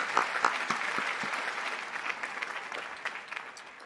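Audience applause for LAPD reserve officers fills a room: steady, dense clapping from many hands, moderately loud and fading slightly toward the end, with no talking over it.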